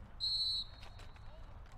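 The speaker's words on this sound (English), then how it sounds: "the referee blows the whistle to resume play" A referee's whistle blows once, sharp and shrill, at a men's college lacrosse game, followed by faint crowd and arena noise.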